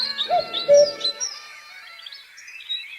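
Several small birds chirp and tweet in quick, bright bursts, with a lower cooing note early on, then sparser calls trailing off; no voices, fairly close and clear.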